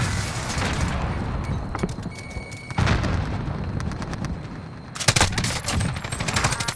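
Rapid automatic gunfire and heavier booms in a Warzone armored royal match, loud, close bursts that continue with short pauses, with no talk.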